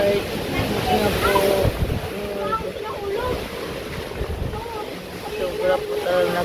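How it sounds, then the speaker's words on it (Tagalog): A strong typhoon in Camarines Norte, Philippines, with wind buffeting the microphone over roaring waves, loud and continuous, while a frightened voice speaks over it at times. "Ito po ngayon ang bagyong 1. Sobrang lakas."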